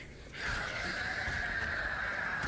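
A donkey in Lies of P lets out a single sustained, strained braying cry that starts abruptly and holds at a steady pitch for about two seconds, loud and close.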